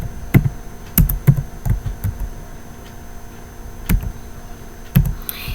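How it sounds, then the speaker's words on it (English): A password is typed on a computer keyboard in a quiet room: a handful of separate, crisp key taps at an irregular pace with pauses between them, close and clear. "then I'm typing the password of this"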